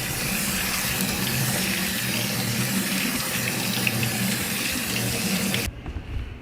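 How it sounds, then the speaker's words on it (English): Cold water gushes from a kitchen tap in a steady, close rushing stream that cuts off abruptly near the end, leaving a faint trickle. "We'll just run some cold water over here."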